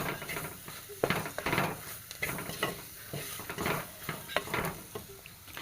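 A spoon stirs curry masala frying in a pan for a fish curry, scraping steadily with soft sizzling underneath and the occasional clink of metal on the pan, close up and continuous, with no voices.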